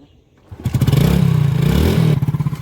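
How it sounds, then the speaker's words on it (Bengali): A cold motorcycle engine cranks and catches in cold weather, then runs with a loud, throbbing idle that pulses rhythmically, close by. "কি হলো ঠান্ডায় জমে গেছে তোমার বাইক"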